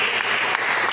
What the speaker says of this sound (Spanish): Den un aplauso a Cristo, hermanos.